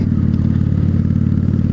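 A motorcycle engine running nearly out of fuel, its loud, close, steady low throb carrying a fast uneven beat as it stumbles and misfires, with a rattling clatter on top.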